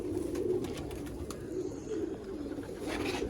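Rare teddy pigeons, a fancy breed, cooing in a steady, soft, repeated rhythm; the low throaty calls overlap one another with a faint hum of surroundings behind them and no voices.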